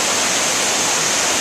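The flooded, steep Brandywine River rushes through Midtown during Hurricane Sandy as a loud, unbroken broadband roar of churning water, close and steady with no other sounds.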